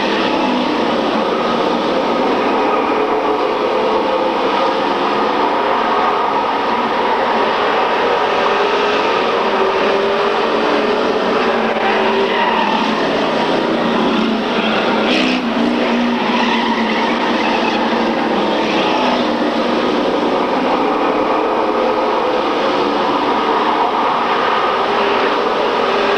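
Race cars in a 1995 oval or circuit event, among them a Chrysler LeBaron and a field of GM cars, roar past in a constant loud, dense engine drone that swells and fades as the pack battles at the front, with no speech.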